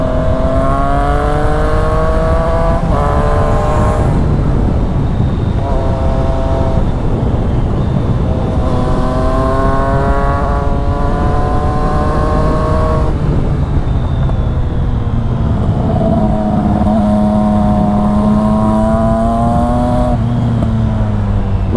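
A Triumph Street Triple 660S motorcycle on semi-off-road tyres rides along a road, its engine rising in pitch through repeated accelerations with brief drops between gear changes, loud and close throughout.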